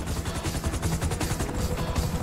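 An FIB helicopter in GTA V thuds overhead with a steady, rapid rotor chop, loud and continuous amid game-action noise, with no talk.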